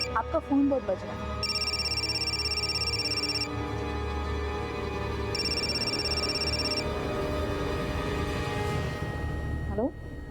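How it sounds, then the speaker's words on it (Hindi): A telephone rings in two separate electronic bursts, each lasting about two seconds, over a steady background of dramatic music and ambient sound. "आपका फोन बहुत बज रहा है।"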